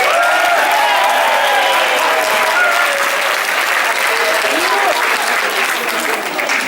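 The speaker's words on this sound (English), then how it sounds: "And a round of applause, please, for our sophomores." An audience applauds at an instrumental music awards ceremony and banquet, dense steady clapping that fills the room, loud and sustained throughout.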